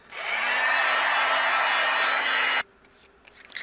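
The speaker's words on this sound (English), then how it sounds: "I'm going to heat this up with my heat gun" A heat gun blows steadily on embossing powder over a card, a loud, even whoosh of hot air lasting about two and a half seconds before cutting off abruptly, followed by faint handling noise.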